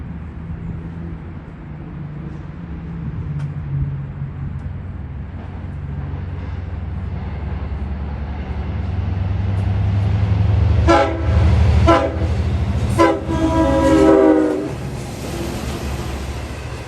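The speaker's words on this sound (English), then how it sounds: "oh, here comes the train now" A train in New York rumbles closer as it arrives at a station and grows louder, then sounds several sharp horn blasts before the noise fades slightly.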